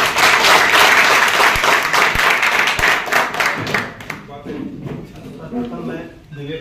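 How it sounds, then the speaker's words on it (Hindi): An audience at a Lineman Day event gives loud, dense applause to welcome a speaker, then the clapping thins out and fades as a voice begins. "जोरदार तालियों से स्वागत है"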